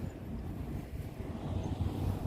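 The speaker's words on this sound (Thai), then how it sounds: "ลมก็เริ่มพัดแล้ว" Wind blows across an outdoor natural fishing spot as a storm approaches, making a steady low rushing buffet against the microphone with no other clear sounds.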